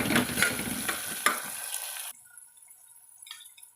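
Green peas sauté in hot oil in a pan for vegetable biryani: a close, bright crackling sizzle with a few spoon knocks lasts about two seconds, then drops abruptly to near quiet with faint drips.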